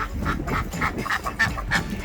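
Ducks quack in a steady series of short, nasal calls, about six or seven close by and fairly loud over a low background rumble.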